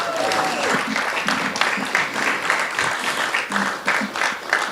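An audience applauds Amazon employees at an event, with a loud, steady patter of clapping while voices call out over it.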